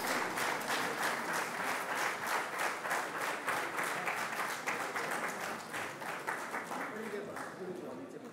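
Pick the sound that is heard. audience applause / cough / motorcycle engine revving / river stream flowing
audience applause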